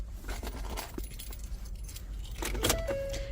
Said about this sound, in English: Get out the key. Here's the key. I got the key.